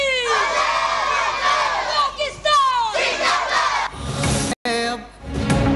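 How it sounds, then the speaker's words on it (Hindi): A large crowd at a Pakistan Day celebration chants slogans in loud, rhythmic unison, with strong rising calls and answering shouts, briefly cut off before resuming. "नारे तकबीर अल्लाह अकबर और पाकिस्तान जिंदाबाद के नारे"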